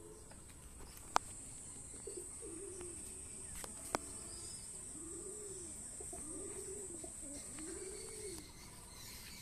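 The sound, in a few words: kalshira pigeons cooing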